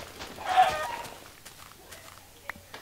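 A Minecraft chicken in a video game gives a brief cluck near the start, followed by a few soft clicks and steps in a quiet background.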